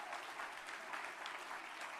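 A live audience at a fundraising rally claps steadily for two seconds, a dense, even wash of hands with no voices standing out.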